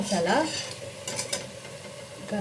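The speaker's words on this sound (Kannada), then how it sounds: "ಎಲ್ಲ ಹಸಿ ಸ್ಮೆಲ್ ಹೋಗಿ ಎಣ್ಣೆ ಬಿಟ್ಕೋತಾ ಇದೆ ಮಸಾಲೆ" Masala of onion, tomato and spices for a soya chunks palav fries in oil while being stirred in a pan, a soft close sizzle with scraping spoon strokes and a few light clinks, no talk over it.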